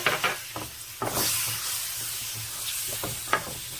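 Chopped tomato sizzles and hisses in hot oil with ground masala for a tuna fish curry, with occasional stirring scrapes over a steady frying crackle.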